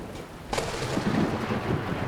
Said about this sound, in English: Lightning's very loud.